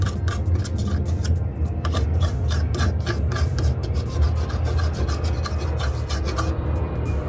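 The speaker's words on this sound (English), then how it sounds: "So let's sand those areas down now." A handmade DSLR-style phone case for a RealMe phone is sanded by hand, giving close, continuous rhythmic back-and-forth rasping strokes at a fairly loud, even level.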